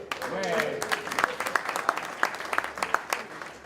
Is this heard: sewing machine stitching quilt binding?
no